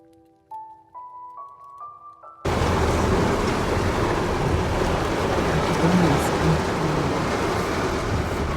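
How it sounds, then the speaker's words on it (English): Heavy rain roars down at T2 Gorge in Dominica in a loud, steady broadband wash after a brief quieter stretch of a few rising tones at the start. "When we got there, it just started raining like crazy."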